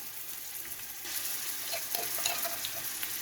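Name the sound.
garlic and ginger frying with onion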